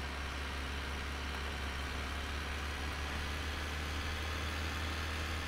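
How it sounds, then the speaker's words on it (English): A tractor engine in Farming Simulator 17 drones steadily under load, a constant low, even rumble with a deep hum and no speech over it. "This is where this tractor probably starts groaning pretty good."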